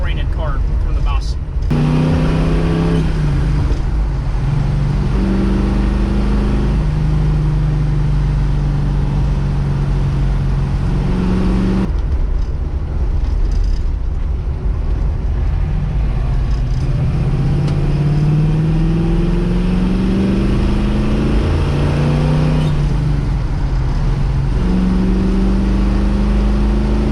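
A 1970 Ford Mustang Boss 302 V8 rumbles steadily up close, its engine note rising and falling through several revving pulls with a deep, continuous low drone.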